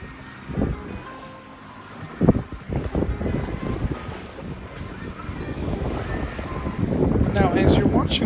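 A boat under way out on the water towing a motorized dinghy, with steady engine and hull rumble, wind buffeting the microphone and splashing waves throughout, growing slightly louder toward the end.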